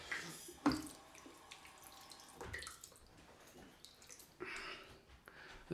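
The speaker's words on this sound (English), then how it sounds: "Let's get some more water on the face, a bit more hydration." Water splashed onto the face during a straight razor wet shave, heard as a few short, close splashes and trickles at intervals over a quiet room background.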